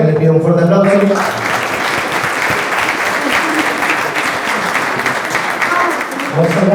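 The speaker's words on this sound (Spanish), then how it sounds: "También les pido un fuerte aplauso." Audience applause at a forum on jury trials, a loud, sustained burst of many hands clapping that follows a brief bit of speech and continues steadily for several seconds.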